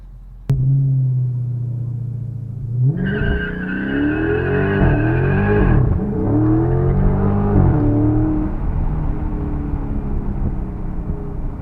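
A Scat car, run in track mode with traction control on, roars as it accelerates and its tires spin and squeal hard for several seconds, with a loud steady engine note throughout and no talking.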